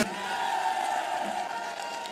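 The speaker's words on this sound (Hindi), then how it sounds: "अरविंद केजरीवाल जोरदार तालियों के बीच।" A crowd at a political rally in Morena, Madhya Pradesh gives Arvind Kejriwal a sustained roar of applause and cheering, dense and steady throughout without a break.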